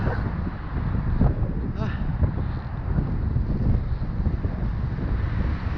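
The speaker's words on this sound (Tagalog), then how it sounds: "Sinampal na naman ako ng hangin." Strong wind roars and buffets the microphone in a continuous, loud rush with no pauses.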